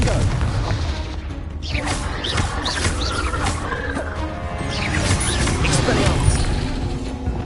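Explosive spell blast in a Hogwarts video game, with booming crashes and rumbling impacts that layer over a continuous loud battle din.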